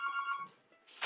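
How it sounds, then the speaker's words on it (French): A telephone rings with a steady electronic tone, heard briefly at moderate level in a scrapbooking workspace, then breaking off before a brief burst of other noise. "et j'ai le téléphone qui sonne"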